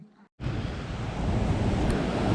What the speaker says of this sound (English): The river here in Aguas Calientes is actually pretty beautiful, to be honest.